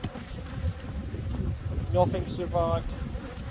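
Bees buzz steadily and close around a beekeeper at a collapsed hive, a continuous insect hum with someone briefly speaking over it.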